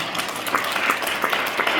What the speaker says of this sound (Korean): 맞는 것 같은 박수 한번 칩시다 우리가.